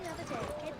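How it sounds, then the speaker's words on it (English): Horse hooves clip-clop in Assassin's Creed 3 in a brief, steady burst, heard mixed with talking. "I'm gonna get on the horse."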